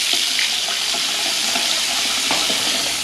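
Cold water pours from a newly installed 19-inch drop-in bathroom sink faucet, a steady close-up hissing rush with faint splashing flickers against the basin throughout, no voices.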